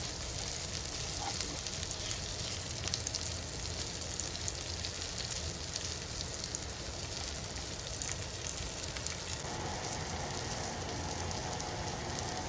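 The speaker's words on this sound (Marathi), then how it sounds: "छान आलटून पलटून छान भाजून घ्यायचे, एकदम क्रिस्पी होतात" Food shallow-fries in a pan and is flipped now and then, a dense, even crackling sizzle that continues steadily throughout, close and moderately soft, with no voices.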